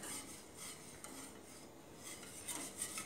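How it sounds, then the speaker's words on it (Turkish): A utensil stirs diet quinoa pudding in a pot as molasses is slowly added, giving a faint, steady scraping and rubbing with soft clinks, with no voices. "Pekmezimizi yavaş yavaş ilave edebiliriz. Karıştırarak."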